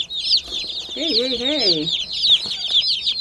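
Meat-bird chicks and young turkeys chirp and peep continuously in a busy chorus in a wood-shaving brooder, with a short low warbling cluck rising briefly in the middle, close by.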